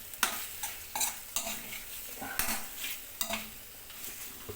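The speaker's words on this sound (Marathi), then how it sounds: "फिशला फ्राय करून घ्या." Katla fish pieces sizzling in a pan for curry, with a steady fry hiss broken by repeated scraping and stirring strokes of a spatula at a regular rhythm, close and fairly quiet, with no talking.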